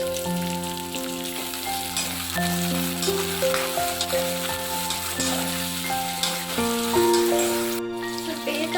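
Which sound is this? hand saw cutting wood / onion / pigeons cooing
onion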